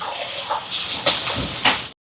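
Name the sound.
green chilli, garlic and onion sautéing in a pan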